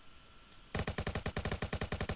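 Automatic gunfire in a video game: a single shot, then a rapid, evenly spaced burst of loud, close shots that continues to the end.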